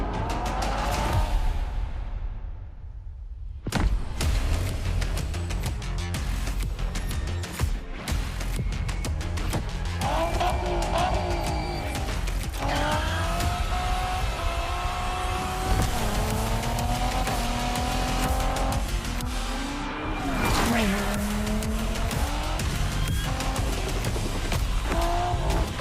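A Toyota Supra driven in the video game The Crew Motorfest: a loud, continuous engine roar with rising and falling revs through gear changes, plus occasional tire squeal, with no talk over it.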